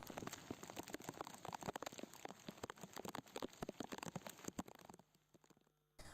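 Heavy rain in Jamnagar, Gujarat, falls hard and steadily with dense patter and splashing close by, then cuts off abruptly near the end.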